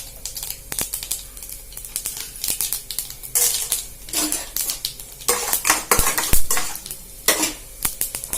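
Mustard seeds, urad dal and chana dal frying in oil for a potato curry, with crackling sizzle and a loud, busy clatter of a metal spoon scraping and knocking the pan throughout, close up and without speech.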